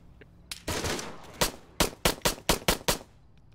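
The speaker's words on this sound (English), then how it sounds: "Shots fired. Shots fired." Video game gunshots: one longer burst followed by a quick run of about six sharp, evenly spaced shots, fairly close and loud with no talking.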